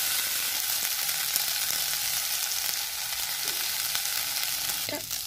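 Continuous sizzling and frying in a pan as ground mustard powder is mixed into cooked rice, with faint scraping stirs and a brief clink near the end, no talking.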